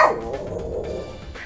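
A pet dog barks once or twice close by near the start, a short sharp yelp that fades into low room noise, with no talking.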